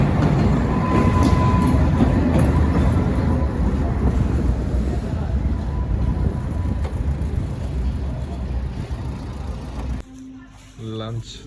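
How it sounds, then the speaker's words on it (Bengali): A Latvian train at Riga station rumbles close by, a loud continuous low roar with faint rail clatter that fades toward the end. People talk over it. "এটা হচ্ছে লাটভিয়ার ট্রেন।"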